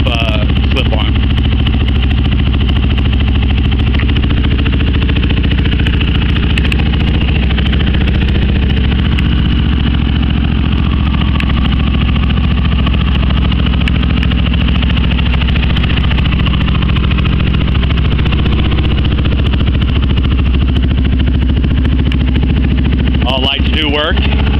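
A Yamaha Raptor ATV fitted with an HMF slip-on exhaust idles close by with a steady, loud, throbbing rumble that holds even throughout.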